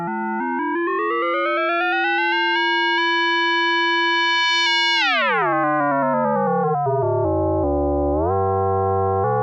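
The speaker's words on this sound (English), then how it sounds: "So that's a sine wave." A Synthesis Technology E330 multimode VCO plays a steady, loud electronic tone with no voice. Its pitch glides slowly upward, drops sharply, then settles and steps up again.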